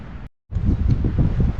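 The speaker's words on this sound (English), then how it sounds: "it's really windy in here. The wind's going right down the tunnel." Strong wind roars down a disused railway tunnel and buffets against the microphone in a low, rumbling rush, cutting out briefly before returning just as loud.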